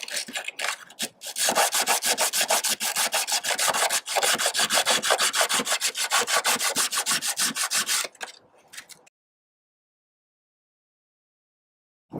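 Sandpaper rubbing over a fiberglass gutter joint in steady, rapid back-and-forth strokes for several seconds, close and fairly loud, then stopping into silence.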